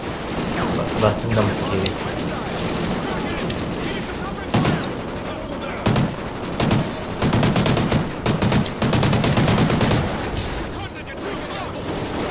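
Rapid bursts of gunfire and heavy shots from the video game Call of Duty Ghosts on the Atlas Falls map, loud and sustained with short pauses, under someone talking in Indonesian.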